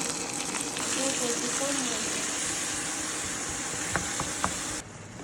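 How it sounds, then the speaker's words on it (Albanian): Onion, garlic and carrots sizzle in a pan as a base for bolognese sauce, a steady close crackle with a few sharp clicks of utensils toward the end. "Do t'i lëm këto që të kavardisen për 10 minuta dhe pastaj do të shtojmë mishin e grirë."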